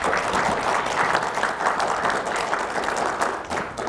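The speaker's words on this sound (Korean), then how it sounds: "환영의 박수 부탁드리겠습니다." Sustained audience applause greets a guest at a formal press club debate forum, a dense, even wash of many hands clapping from a seated crowd, steady throughout with no talk over it.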